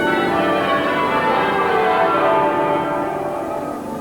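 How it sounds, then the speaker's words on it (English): The bells of Westminster Abbey peal continuously in a dense, loud, reverberant wash of overlapping ringing that fades slightly toward the end, with no voices heard. "Accompanied by the bells of Westminster Abbey, the Queen Mother's final journey out of the nation's life began"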